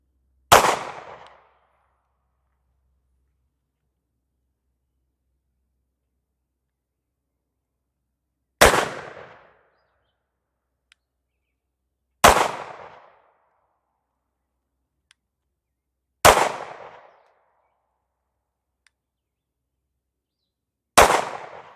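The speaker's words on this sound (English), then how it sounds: "We're back to the jacketed hollow point 40 grainer. I'll shoot in the A zone now." Five sharp gunshots from a .22 WIN Mag firing 40-grain jacketed hollow point rounds, the first alone, then four after a long pause at uneven intervals of a few seconds, each loud and close with a short decaying tail.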